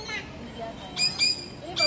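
A bird at the Pesona Alam resort in Puncak gives several short, sharp squawks while being fed green beans, with people chatting nearby throughout.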